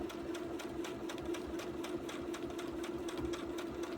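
A sewing machine doing free motion quilting on plain fabric runs with a steady, fast mechanical hum and rhythmic needle ticking, close and continuous throughout.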